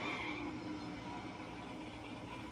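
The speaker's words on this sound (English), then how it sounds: "When you fully tune it, it does not sound like the Indian motorcycle that you come to love." Engine of a fully tuned Indian Scout motorcycle in the racing video game The Crew Motorfest: a continuous, buzzing, whirring drone held at a steady pitch, fairly faint throughout.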